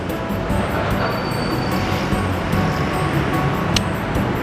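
A BTS elevated train in Bangkok gives a steady, continuous rumble with a broad rushing roar that holds at a constant level throughout, and brief faint squeals cut through it.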